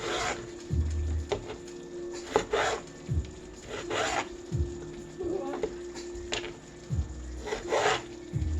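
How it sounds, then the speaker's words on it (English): A knife cuts through an onion on a board, giving repeated rasping slices and firm knocks in an irregular rhythm, close and clear, with no talking. "Cut it in half and then cut it again."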